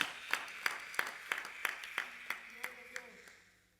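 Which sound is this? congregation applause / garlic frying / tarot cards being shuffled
congregation applause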